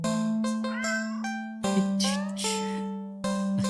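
A cat meows several times in an indie horror video game, short clear mews over a steady low game hum with chiming tones, close and fairly loud.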